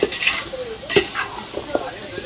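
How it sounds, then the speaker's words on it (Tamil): Salted chicken pieces for chicken biryani stirred in a pan, with a spoon scraping in a few distinct strokes over a light sizzle and a faint voice in the background. "உப்பு போட்டு நல்லா கறியை கிண்டிக்குங்க"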